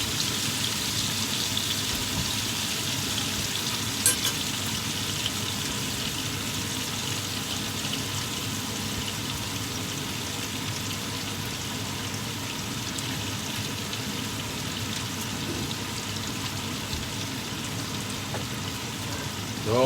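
Ribeye steak sizzles in a pan with garlic, a steady close crackle and hiss running unbroken and fairly loud throughout with no talking.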